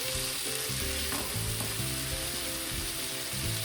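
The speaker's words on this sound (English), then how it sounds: "Sizzling away, smelling awesome." Garlic and onions frying in a pan for a Portuguese-style tuna salad, a loud continuous sizzle with occasional stirring scrapes throughout.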